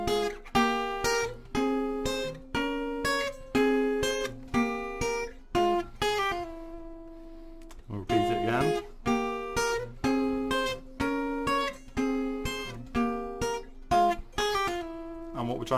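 Guitar solo from a song, played as a lesson demo: quick picked notes in bright rhythmic bursts, a held ringing note midway and bends, clear and alone throughout.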